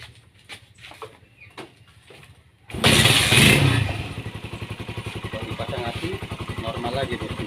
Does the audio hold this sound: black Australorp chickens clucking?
no